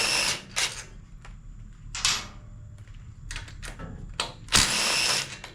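Short buzzing bursts from an impact wrench working the head bolts of a Briggs and Stratton engine on a Craftsman YTS3000 mower, repeated spurts with a longer final run, close and loud, no speech.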